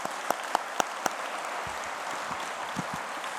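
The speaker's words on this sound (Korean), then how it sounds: "이기성 원장님께 감사의 박수를 올려드리겠습니다." A Korean New Year's Day prayer-meeting congregation gives applause of thanks after a blessing, a soft wash of clapping with a few sharp, close individual claps near the start, continuing steadily at moderate volume.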